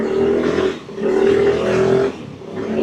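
A 50cc motorbike engine with a valve fault runs under throttle, its steady buzzing drone rising and dipping in three surges, close and loud with no talk over it.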